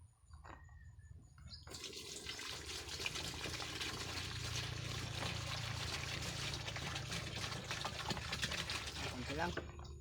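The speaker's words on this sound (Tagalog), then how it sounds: "Lagyan ko ng tubig." Water runs and splashes steadily into the tank of a rechargeable sprayer, starting after a brief quiet moment and continuing as a close, even trickle-and-pour for the rest of the moment.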